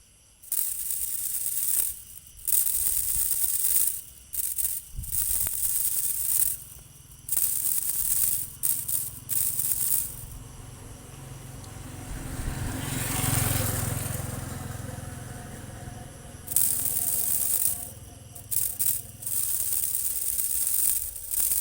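A bamboo-strip rat call, made from a flat strip of bamboo skin and used to lure field rats, gives repeated bursts of raspy, buzzing squeals in irregular runs with short pauses, close and fairly loud, with no talk.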